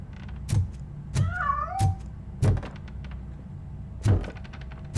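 A cat meows several times in the Robocop: Rogue City video game, a few short cries with one drawn-out, wavering meow, set among soft game thuds and ambient background.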